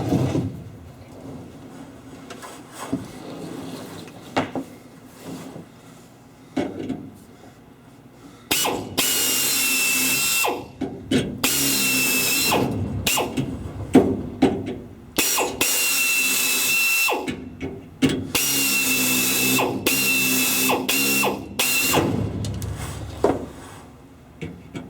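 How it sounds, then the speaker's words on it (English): A power drill whines in several loud bursts, grinding out metal rivets while repairing a Sonex kit aircraft, separated by clicks and clattering handling sounds in a small enclosed space. "This drill's going to be loud in here."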